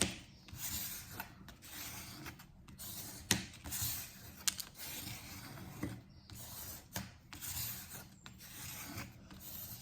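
Paper is smoothed and pressed onto card for a scrapbooking project, giving quiet, close rubbing and scraping strokes in short repeated passes with small gaps between them.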